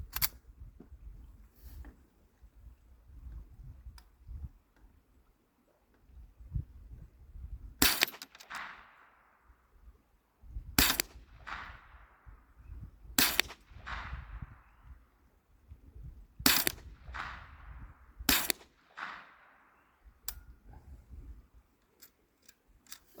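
Rifle shots fired at a target during grouping practice for coyote hunting, about seven sharp, loud cracks at irregular intervals with brief echoing tails, separated by stretches of quiet outdoor handling noise.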